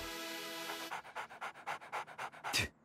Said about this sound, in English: Whatever. He's just a dog.